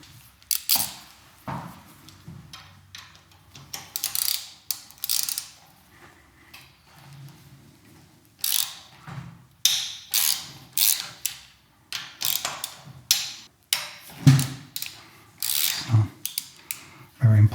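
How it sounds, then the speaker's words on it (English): A ratchet clicks in short bursts as handlebar screws are loosened on a Royal Enfield Meteor 350, irregular close-up metallic ratcheting spread across the stretch with brief pauses between runs. "So next step is to loosen the screws here for the handlebar."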